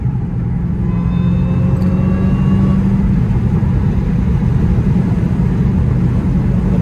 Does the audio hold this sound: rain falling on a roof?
no